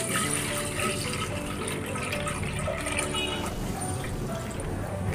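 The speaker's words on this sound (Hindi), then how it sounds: "उसके लिए दूध डाल देती हूँ" Milk poured into a cooking pot gives a continuous, full liquid rush that stays loud and even throughout.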